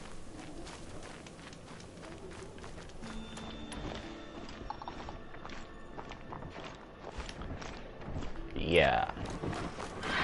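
Horse hooves clop along at a walking pace in the video game Horizon Zero Dawn, faint and steady under quiet speech, with a brief whinny near the end.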